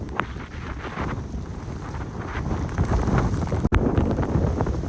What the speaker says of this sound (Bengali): এত জোরে হাওয়া হচ্ছে।